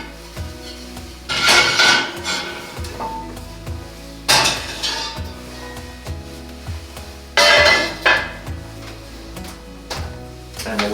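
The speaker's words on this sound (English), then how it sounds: "we're going to put the Dutch ovens in the oven" Heavy enameled Dutch ovens and their lids clank and clatter as they go into an oven for sourdough bread, with three loud bursts of metal and ceramic knocking, spaced a few seconds apart, among quieter clinks and kitchen rattle.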